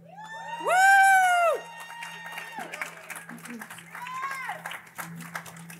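A cheering section at an awards ceremony whoops and claps, one loud sustained cheer followed by scattered shouts and applause, with talking mixed in.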